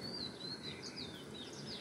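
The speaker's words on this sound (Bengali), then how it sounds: "চারপাশে পাখির কিচিমিচি ডাক শুনেই ভাবলাম যে আপনাদের সাথে এটা" Small birds chirping outdoors around six in the early morning, a scatter of quick high tweets repeating at a distance over a quiet, low ambient hum, with no voices.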